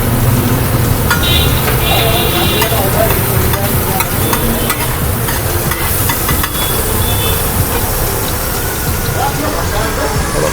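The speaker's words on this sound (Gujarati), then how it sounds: "પહેલાં બટર આવશે, બટરમાં પાઉં ફ્રાય કરશું." Pav bread fries in butter on a busy fast-food griddle, a loud continuous sizzle under clanking, scraping and background street and crowd noise, with voices in the mix.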